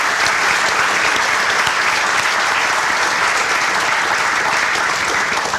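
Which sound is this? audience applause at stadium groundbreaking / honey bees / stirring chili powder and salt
audience applause at stadium groundbreaking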